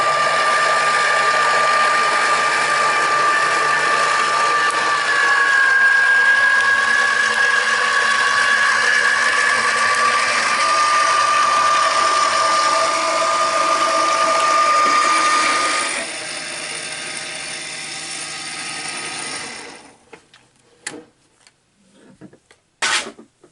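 A die-cutting machine feeds paper through its rollers with a loud, steady mechanical whirring and grinding for about sixteen seconds. It eases off, stops around twenty seconds, and a few scattered clicks and knocks follow.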